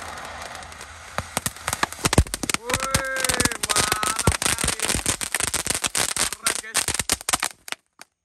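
A fountain firework shoots sparks in a dense, continuous crackling spray that thickens and grows louder as it burns. It is set off at night during Ramadan, and a voice talks over it partway through before the spray sputters out.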